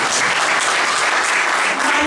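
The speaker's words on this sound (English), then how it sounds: "Can we give her a round of applause?" An audience applauds steadily at a parenting talk, a dense, continuous wash of clapping from many hands that stays loud and even throughout with no voices standing out.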